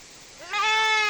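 A young kid goat on a goat farm lets out a single close, rising bleat that swells and holds briefly, clear and loud against a quiet background.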